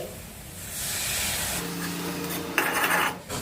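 Spices and Kashmiri chilli powder stirred and scraped in a pan for potol posinda, a steady rubbing, rasping scrape of a utensil against metal, with a sharper clatter near the end and no talk.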